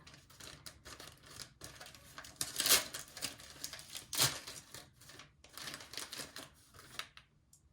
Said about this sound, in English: I'm gonna open up my week 8